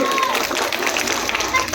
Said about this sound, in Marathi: जोरदार टाळ्या वाजवा सॅफ्रॉन साठी